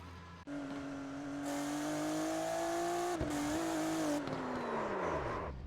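A Porsche GT3 race car in iRacing spins out at Summit Point, its engine a loud sustained whine that holds steady, dips, then falls away as the tyres scrub and squeal across the final seconds.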